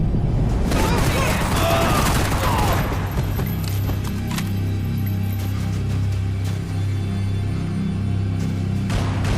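Gunfire from the video game Max Payne 3, with a dense burst of shots and booms at the start that gives way to a steady low rumble while voices talk over the action.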